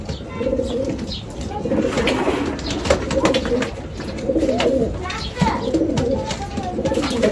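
Pigeons in a loft coo continuously in low, overlapping murmurs, with people talking nearby over the birds.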